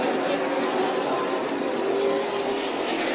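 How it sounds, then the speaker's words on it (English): A race car at Stockton 99 Speedway drones steadily down the front straightaway, running off the pace, a continuous loud engine roar with no voices. "Kevin Ferdin, his car is off the pace on the front straightaway."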